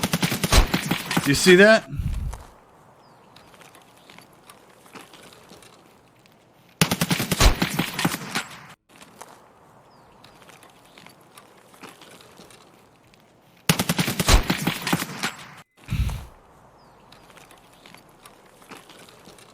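Three loud bursts of rapid automatic gunfire from a first-person shooter video game come in turn, each a dense rattle lasting about two seconds, with quieter footstep-like taps between them; someone speaks briefly.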